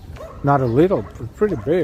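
Dogs bark and yip in short, excited bursts at a dog run in a park by the river in Morningside Heights, New York City, while a person talks over them.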